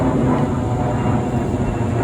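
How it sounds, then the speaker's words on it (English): An airplane passes overhead as a loud, continuous low rumble with no breaks and no voices over it. "there's a plane overhead."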